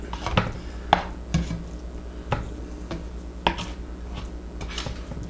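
Hot, gooey food being stirred and chased around the bottom of a pan, heard as repeated scraping strokes and sharp clinks of a utensil against the metal, close and irregular.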